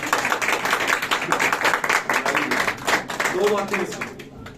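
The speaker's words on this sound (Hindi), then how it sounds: "खुदा यीशु मसीह की जलाल के लिए ताली बजा सकते हैं।" Church congregation clapping in worship, a dense steady patter of many hands filling the space, with voices and speech mixed through it.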